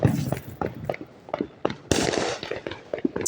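Fourth of July fireworks and firecrackers go off in quick succession, sharp cracks and pops overlapping with crackling bursts, loud and fairly close.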